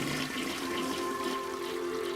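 Continuous rushing water of an overflowing toilet flooding in a homemade Tynker video game, a steady sustained gush with a faint tonal hum underneath, no talk over it.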